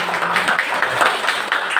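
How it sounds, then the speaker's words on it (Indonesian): An audience in a classroom clapping their hands together: a continuous, busy patter of claps at close range, held steady throughout. "Tepuk tangan dulu. Tepuk tangan."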